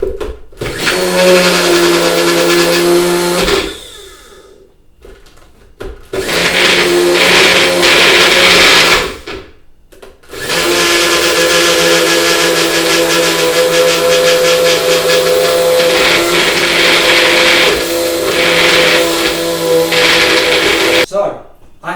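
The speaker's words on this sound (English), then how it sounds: "Lid on, and we're blending." A kitchen blender whirs through a dry mix of cocoa powder, sugar and milk powder for homemade chocolate, running loud and close in three bursts separated by brief pauses.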